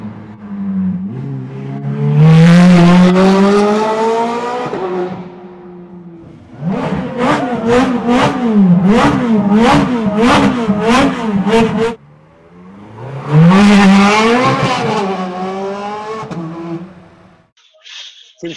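Ferrari 430 V8 engine revving hard in three bursts: a long climbing rev, a rapid series of sharp blips, then another strong rise, loud and close with brief pauses between.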